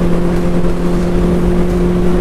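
Steady, loud roar of a Benelli 600 motorcycle ridden fast on the highway, with a sustained engine drone and strong wind rush running continuously with no talk.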